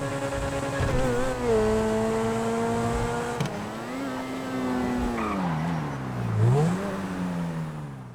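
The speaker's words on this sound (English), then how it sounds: "this is an awesome handling car." A fast, sharp-handling sports car drives at night in GTA V, its engine note rising and falling through gear changes with revs climbing and dropping, alongside some tire noise, loud and close with no talking.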